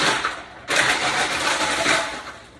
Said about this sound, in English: we're going to blend this until it's smooth